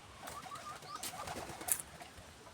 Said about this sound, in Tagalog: Yan yung mga kalapati ko